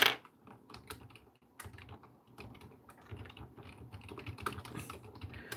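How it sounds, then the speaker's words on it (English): Quiet typing on a computer keyboard during a livestream, with soft, irregular key clicks that come in quick bursts throughout, close but low in level. "I will type it."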